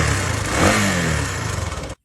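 A 2023 Honda Click 160 scooter engine, suspected of an oil pump fault, revs hard and loud up close, the pitch climbing and wavering in a rough surge before cutting off abruptly.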